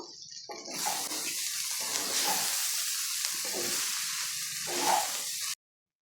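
Veg fried rice with purple cabbage and a little ghee is stirred in a hot pan, giving a steady sizzle broken by scraping strokes of the spatula, close and fairly loud, then ending abruptly.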